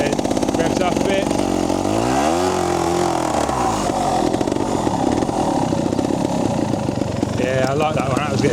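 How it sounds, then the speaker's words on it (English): Trials motorcycle engine revving hard for power on a slippery off-road stretch, a loud continuous snarl with rising and falling pitch sweeps and repeated throttle blips throughout. "This one needs a load of power here, revs up a bit."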